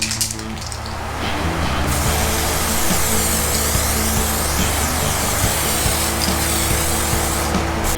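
Clear coat is sprayed onto a wooden gas tank for a Honda CB500 café racer, a loud, close, continuous hiss that starts after a short pause and keeps going with faint clicks and shifts of the nozzle.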